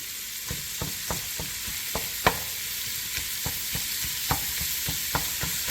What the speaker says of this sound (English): we're going to brown this sausage